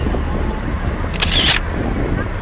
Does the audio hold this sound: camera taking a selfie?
yes